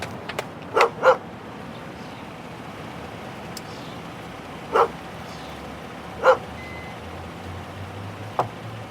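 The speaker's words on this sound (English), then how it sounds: "There's a dog." A dog barks during a police high-risk vehicle stop, a few sharp separate barks spaced out over several seconds, moderately near against a steady low background hum.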